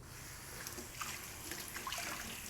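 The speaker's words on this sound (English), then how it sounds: "Putting in some cold water on the top there." Cold water trickles and splashes lightly over the top of a sourdough loaf made from freshly milled stone-ground flour, a faint, quiet patter lasting a couple of seconds.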